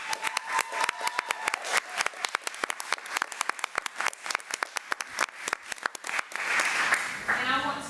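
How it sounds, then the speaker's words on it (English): At a school board meeting, a small group applauds the district with distinct, close individual claps in an uneven rhythm, fading near the end as people begin talking. "let's give the district another round of applause"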